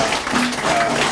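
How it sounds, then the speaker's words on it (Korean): A short burst of audience applause at a Seoul seniors' film festival ambassador appointment ceremony, a dense crowd of clapping at moderate distance. "다시 한번 큰 박수 부탁드리겠습니다."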